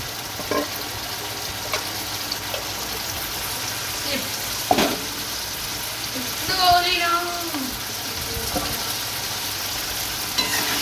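Spices with cumin, green chilli, salt, turmeric and chilli powder sizzle steadily in a pan while being stirred, with scattered scraping clicks and a few louder clanks over a constant frying hiss.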